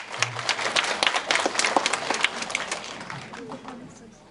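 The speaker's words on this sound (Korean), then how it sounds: "뜨거운 박수를 부탁드립니다." Audience clapping at a girls' high school all-day reading event in a school hall, a scattered burst of claps from a modest crowd that thins out over a few seconds, with faint murmuring underneath.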